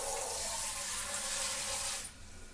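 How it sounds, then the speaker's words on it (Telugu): Water is poured steadily into a cooking pot of aanapakaaya (bottle gourd) seasoned with salt, a continuous close splashing rush for about two seconds that stops abruptly, leaving faint room noise. "దీంట్లో కొంచెం వాటర్ వేసుకోవాలి"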